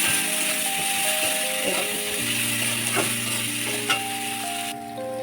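Onions and green chillies fry in a pan with a steady, even sizzle, close and continuous, accompanied by a persistent tonal mechanical hum.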